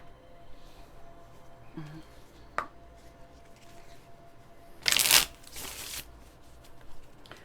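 Tarot cards shuffled by hand during a card reading, a quiet rustle and tap, then one loud close riffle burst followed by a softer second riffle, with a faint voice in the background.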